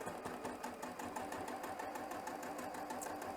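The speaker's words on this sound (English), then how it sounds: "And I'm going to back stitch." A sewing machine back stitching on a welt zipper pouch whirs steadily at close range, a continuous buzzing motor with rapid needle chatter and no pauses.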